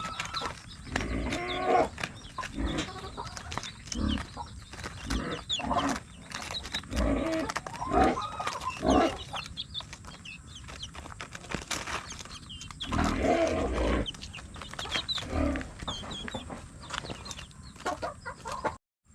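Chickens cluck and a rooster calls repeatedly in an outdoor farmyard, with bursts of animal noise over a busy background.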